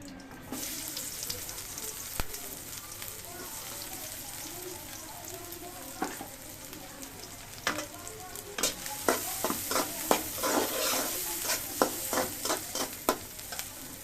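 Chopped onions hit hot mustard oil and keep frying with a steady, close hiss, then a spoon stirs and scrapes them in the pan in a run of clattering strokes.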